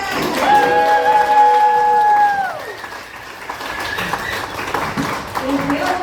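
Audience applause for comedian Carla Vasquez at a comedy open mic, a loud, continuous wash of clapping with voices through it, opening beneath a sustained held musical tone that drops away after a couple of seconds.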